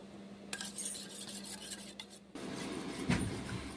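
Eggs with salt and pepper being beaten in a bowl for an omelette, a steady close scraping and clinking of utensil against the bowl, briefly pausing before a louder, busier stretch of mixing, with no talking.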